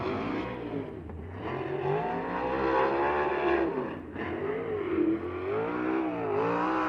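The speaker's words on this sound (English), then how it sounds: "2E car coming down into turn number 3 and 4. Beautiful carve at that end of the racetrack." USAC race car on the Circle City racetrack carving through turns 3 and 4, a loud continuous engine drone with rising and falling pitch as it accelerates and lifts through the corners.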